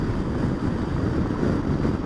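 Strong wind buffets the microphone on a Yamaha XMAX 250 scooter tour in a constant low rumbling roar, with no voices.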